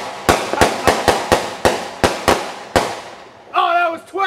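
Redneck Fireworks July 4th 2008: a string of about nine loud, sharp firework bangs at irregular intervals, each with a short echoing tail like a mortar round, followed by a person shouting over the last one.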